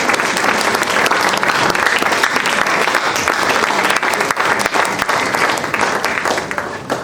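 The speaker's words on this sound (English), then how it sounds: "Please, let's have a powerful round of applause." A large audience at a national moot competition gives a long, loud round of applause, dense and even for several seconds before easing slightly.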